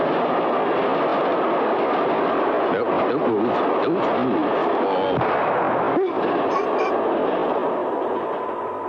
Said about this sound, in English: There's a train coming. Listen to it.